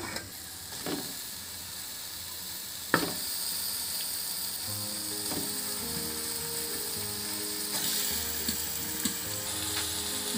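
Chicken pieces go into a pan of browned curry masala, setting off a steady close sizzle with several sharp clatters of spoon and pan at the start, no voices.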